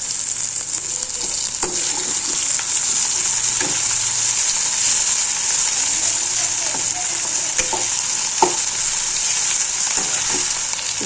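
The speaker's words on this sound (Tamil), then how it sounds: "நல்லா வதங்கட்டும்." Onions and tomatoes sizzle steadily in hot oil, with occasional stirring scrapes and taps of a utensil against the pan.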